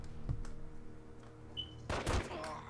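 A gun firing in The Godfather video game: one sharp close blast early, then a louder burst of gunfire near the end, with quiet game ambience between.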